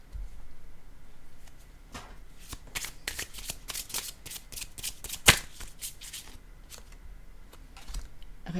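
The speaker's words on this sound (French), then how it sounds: "J'ai pourtant mélangé mes cartes." A deck of playing cards is riffled and shuffled repeatedly, giving close, rapid flapping bursts, with one sharp snap near the middle of the run.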